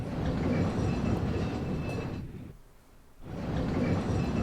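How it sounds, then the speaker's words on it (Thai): Tram moving on rails in Resident Evil 4 HD Edition, a steady loud rumbling rail roar that briefly dips into near quiet before returning at full strength, heard alone without talk. "โอเค เดี๋ยวรถรางก็พามาที่ไหนไม่รู้"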